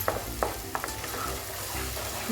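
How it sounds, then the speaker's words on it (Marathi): Raw tomato purée sautés in a pan, a close sizzle with a few sharp utensil taps and scrapes at the start, then a steady frying hiss under a low hum. "त्याला सगळ्यात आता कच्चेपणा जाईल इतकं तसं आपण परतून घ्यायचं आहे"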